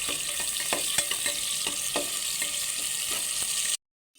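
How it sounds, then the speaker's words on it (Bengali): Chopped onion fries in hot oil in a pan, sizzling and crackling steadily and up close, with a few stirring scrapes, until it cuts off abruptly. "রান্না করার জন্য তেল আর পেঁয়াজ কুচি দিয়ে দিয়েছি। পেঁয়াজটাকে একটু লাল লাল করে ভেজে নেব।"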